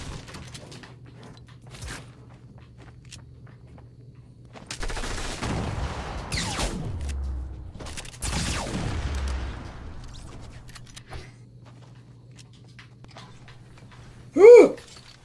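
Fortnite gunfire comes in two dense bursts of rapid shots, each trailing off, over a low steady game hum. A sharp single crack follows near the end, with no one talking.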